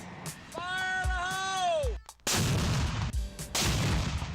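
A cannon fired at a product launch event booms loudly twice in quick succession, after a rising and falling whistling tone, with rumbling tails between the blasts.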